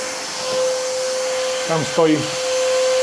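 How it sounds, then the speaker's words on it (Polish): A household vacuum cleaner fitted with a five-metre hose runs loudly as a steady droning whine, while someone speaks briefly over it. "nie wiem, czy mnie słychać, bo ten odkurzacz chodzi głośno."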